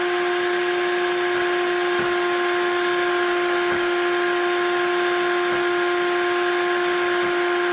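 An Instant Ace Plus blender runs steadily while blending almonds into almond butter, making a continuous loud motor hum with a fixed pitch and faint periodic thumps from the jar, with no talking throughout.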